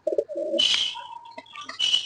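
Pigeons coo and call at close range, a few soft throaty bursts with brief pauses between them, and there is no talk.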